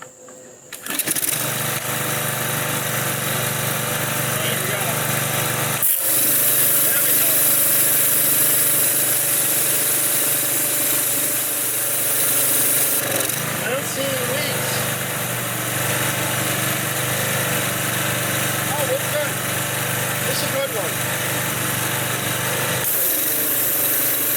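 A used pressure washer's small gasoline engine runs continuously at a steady, loud drone for the whole stretch, with slight fluctuations in pitch.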